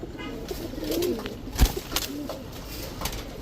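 Indian Kaldam pigeons coo with soft low throaty calls, near and moderately loud, over a steady hiss of background noise.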